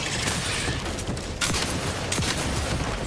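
Rapid gunfire from a firefight in the video game The Outer Worlds 2 forms a dense, continuous barrage, with sharper blasts standing out near the middle and later on.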